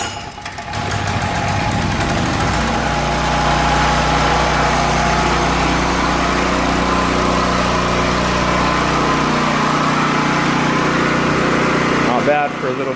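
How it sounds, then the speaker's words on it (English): A small ETQ 3000W portable generator engine catches after a pull start and runs at a loud, steady buzzing drone close by for several seconds, with a brief rattle near the end. "Okay, I'm going to try to give it a start now."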